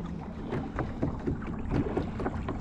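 Kayak paddles dip and pull through calm water in a no-wake zone at a park, giving a steady rhythm of close splashes and drips over light wind, with no talking.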